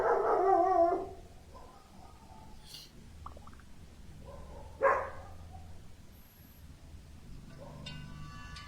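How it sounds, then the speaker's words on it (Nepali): Several dogs bark in a loud burst at the start, then fall quiet. A single sharper bark comes a few seconds later over a low, steady background hum. "कत्रो भुएको कुकुरहरू पनि यार"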